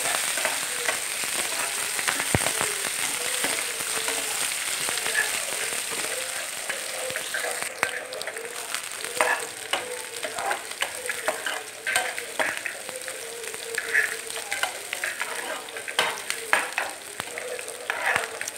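Onions fry in a pan with a continuous close sizzle, punctuated by scraping and stirring clatter as they are moved around, and no one speaks.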